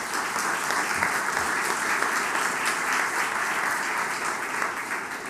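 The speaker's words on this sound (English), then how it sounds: "let's give them a round of applause" An audience at an Arkansas state announcement ceremony applauds steadily and loudly throughout, a dense continuous wash of many hands clapping with no pause.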